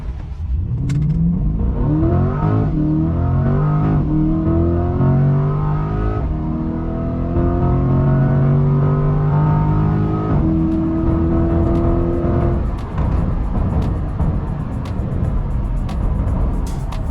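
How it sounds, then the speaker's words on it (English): A 2020 Chevrolet C8 Corvette with the Z51 package, started without launch control, accelerates hard to 120 mph. The engine note climbs loud and steady through several upshifts, each gear rising in pitch before dropping back. "this is how the C8 accelerates to 120 miles per hour without launch control"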